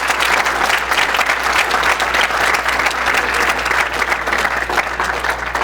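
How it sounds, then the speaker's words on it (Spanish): Sustained applause from an audience at a university computing science and technology event fills the room, dense continuous clapping at steady loudness with a faint low hum underneath. "un aplauso para Roger"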